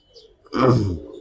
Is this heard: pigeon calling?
yes